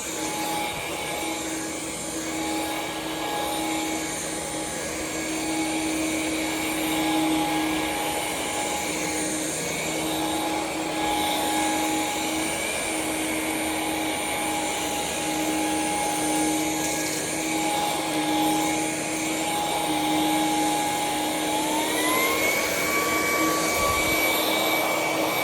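A Ryobi HP brushless stick vacuum runs continuously on a rug mat, a steady high-pitched whine with airflow rush that stays level, then its motor pitch climbs sharply near the end.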